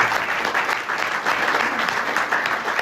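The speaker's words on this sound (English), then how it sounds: "Let's give them a round warm of applause" Warm applause from a business breakfast audience at a chamber of commerce event, steady dense clapping filling the room for a few seconds with no voices over it.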